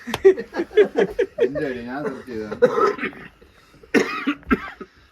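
A person coughs a few times in short harsh bursts between spoken words, close to the listener.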